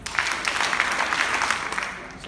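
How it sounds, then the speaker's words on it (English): An audience at a JCI morning show in Goa claps together on cue, a dense and steady burst of many hands that keeps going for the whole stretch, loud and close, without any separate count of claps. "One more time, you can hear our clap four times"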